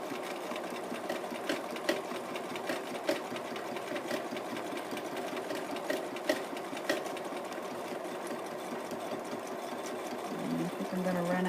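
A sewing machine does bobbin stitching, running steadily at close range with a quick rhythmic mechanical clatter and faint ticks throughout before the motor changes near the end.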